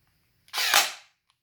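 An SKD Glock 18 gel blaster pistol fires on full auto, giving one short, sharp, rapid burst that stops abruptly, heard close and alone in an otherwise quiet room.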